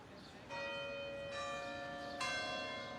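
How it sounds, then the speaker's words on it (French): Church bells ring out in Braga, Portugal, their clear sustained tones entering in a few successive strikes that layer and hang over a faint ambient background. "le tintement des cloches des églises se déclenche"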